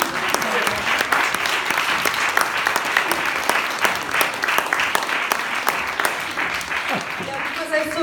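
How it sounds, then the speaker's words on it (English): Steady applause from an audience at a human rights conference, dense clapping sustained throughout with voices faintly mixed in. "You want to applaud, Rita?"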